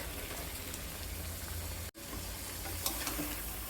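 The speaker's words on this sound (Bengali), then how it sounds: "তিন চার মিনিট কষিয়ে নেওয়ার পরে এখন দিয়ে দেবো চিংড়ি মাছ" Prawns sizzle in a frying pan, a steady close crackle of hot oil with a brief dropout midway and faint clinks near the end.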